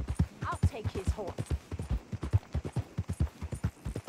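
Horse hooves in the video game Red Dead Redemption 2 clopping in a quick, steady rhythm close by, each hoofbeat sharp and distinct, with a brief snort or whinny early on.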